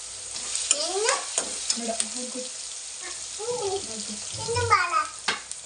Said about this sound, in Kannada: ಇವಾಗ ಈರುಳ್ಳಿ ಎಲ್ಲ ಚೆನ್ನಾಗಿ ಫ್ರೈ ಆಗಿದೆ